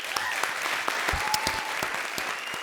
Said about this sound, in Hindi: उसके लिए जोरदार तालियां हो जाएं।